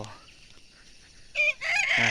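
Rooster crowing at a morning village poultry market, a loud call rising near the end over quieter background clucking, with faint ambient noise before it.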